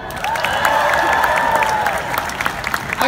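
A large outdoor crowd at the Ann Arbor March for Science applauds and cheers loudly and continuously, dense clapping with whoops mixed in and no speech over it.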